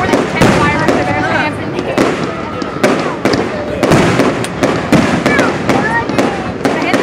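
A fireworks display in New Hope in August bursts in rapid, repeated loud bangs and crackles, with voices of onlookers talking and reacting throughout.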